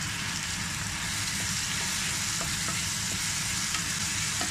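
Tomato sizzles as it is added to ginger garlic paste frying in a pan for egg thokku, a steady, loud, close hiss with faint soft clicks of stirring running throughout.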